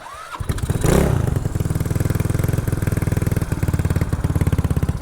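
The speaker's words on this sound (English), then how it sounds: "Give it a little bit of throttle as I start it." A Honda Ruckus scooter starts with the choke on and a touch of throttle: a brief starter whir, then the engine catches with a loud burst and settles into a fast, even, close putter at idle.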